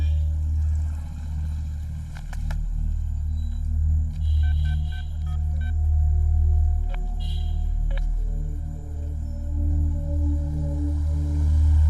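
Short electronic telephone dialing beeps sound in quick groups, followed by a few longer tones, all over a loud, steady low hum in a Hindi-dubbed South Indian film scene.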